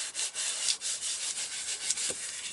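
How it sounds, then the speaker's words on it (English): A finger rubs an adhesive piece onto the back of a paper shadow box card with quick, close, dry scratchy strokes in an uneven back-and-forth rhythm, with no talk. "rub to make sure it's firmly adhered on the back as well"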